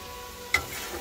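Small fish (guda mach) hit hot oil in a pan while being cooked down for a spicy chorchori, giving a steady low sizzle with one sharp, brief crackling burst midway.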